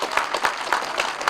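Applause for a school district's custodial staff at an elementary school ribbon-cutting ceremony: dense, steady clapping from a crowd, fairly close and continuous through the moment, with no talk over it.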